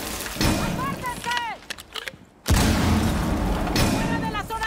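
In Rainbow Six Siege, a breaching charge detonates with a sharp boom after a spell of game noise, followed by a sustained rush of debris and rumble; voice callouts are heard during the clip.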